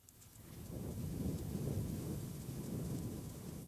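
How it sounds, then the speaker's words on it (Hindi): Thunder rumbling as rain begins to fall in a forest, a steady deep roll with a hiss of rain swelling in and holding loud for a few seconds before cutting off. "जोर की गरज होती है और बूंदें गिरनी शुरू होती हैं।"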